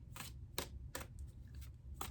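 Tarot cards are shuffled in quick, soft riffles, several short papery bursts in a row, close and fairly quiet.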